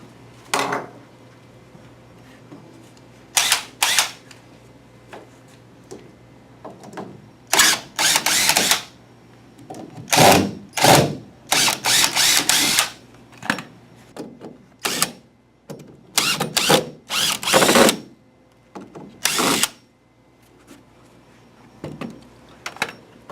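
A power drill backs screws out of the lid of a shipping crate holding an M2 machine during unpacking, giving short whirring bursts scattered irregularly over a quiet room, with some clustered runs and occasional clicks between them.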